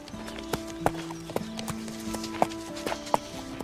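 Horse hooves clip-clop on hard ground in an irregular walking rhythm, with sharp individual strikes heard fairly close over a background hum.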